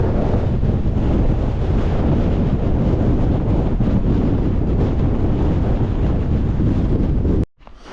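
Strong wind buffets the microphone on a high desert trail near Walker Pass along the Pacific Crest Trail, a loud continuous roar that stays steady for several seconds and then cuts off abruptly near the end.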